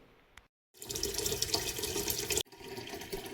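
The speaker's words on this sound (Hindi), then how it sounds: "मैं भर रही हूँ डेगची पानी की, गर्म पानी करने के लिए" Tap water gushes into a metal cooking pot being filled for heating, a steady, loud splashing rush lasting under two seconds, then cutting to quieter room noise.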